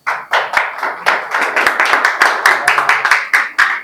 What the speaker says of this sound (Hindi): आइए हम इन स्टूडेंट्स के लिए तालियां बजाएंगे।